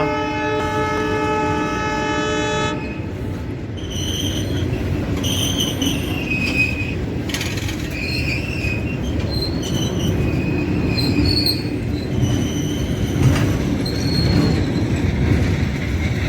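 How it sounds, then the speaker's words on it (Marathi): A freight train near Beed station rolls past on the tracks, loud and close, opening with a sustained horn followed by screeching wheel squeals and rumbling wagons. "माझ्या पाठीमागे ही सध्या ट्रेन चालली आहे बीडच्या दिशेने"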